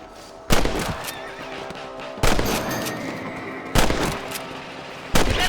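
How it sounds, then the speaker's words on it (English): Gunshots from a video game rabbit hunt, four sharp loud reports spaced about one and a half seconds apart, each with a brief echoing tail over a steady ambient background. "You're better at shooting rabbits than outlaws"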